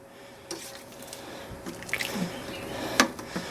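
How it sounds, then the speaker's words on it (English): Grain mash for an Australian sparkling ale is stirred by hand in a mash tun. Soft, wet squelches and scattered drips are heard close up at low volume, with a few sharper splashes near the end. "I stir until I can feel the bottom plate pretty much everywhere I touch."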